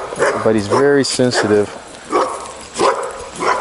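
A dog in a household of eight dogs gives a few quick, close barks and yips, mixed with someone talking.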